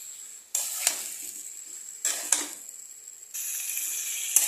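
Mutton pieces sautéed with masala in a pan, giving a steady close sizzle with bursts of scraping and stirring clatter from a utensil against the metal, no talking.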